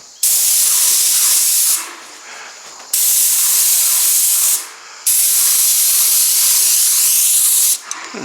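Liquid sprayed into grooves in steady hissing bursts, three long loud sprays of about two to three seconds each with brief pauses between, close and alone with no talk.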